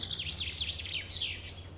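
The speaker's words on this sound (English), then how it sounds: "all the birds were singing loudly." High, sweeping bird calls repeat rapidly over a low steady hum, fairly faint and distant, in the Scottish countryside.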